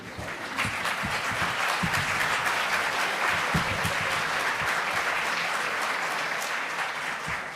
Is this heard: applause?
yes